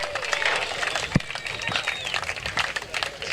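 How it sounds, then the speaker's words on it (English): Applause from an outdoor crowd at a junior golf finals day prize giving, honoring the under-14 girls' second-place finisher; steady dense clapping over a continuous noisy background, with one sharp thump partway through. "Round of applause to her."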